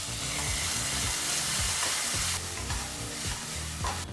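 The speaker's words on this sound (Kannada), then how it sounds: "ಟೊಮೊಟೊ ಹಣ್ಣನ್ನು ಸಹ ಎರಡು ನಿಮಿಷಗಳ ಕಾಲ ಫ್ರೈ ಮಾಡ್ಕೋಬೇಕಾಗತ್ತೆ" Finely chopped tomato fries with onion in a pan, a constant bright sizzle with repeated rhythmic scrapes of a spatula stirring.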